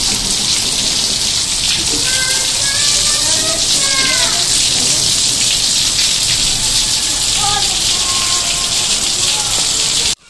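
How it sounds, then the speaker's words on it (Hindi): Heavy monsoon-style rain pours steadily onto a house veranda, a loud, dense, continuous hiss that fills the scene, with a voice speaking faintly beneath the downpour. "ये देखिए इतनी मोटी मोटी बारिश हो रही है"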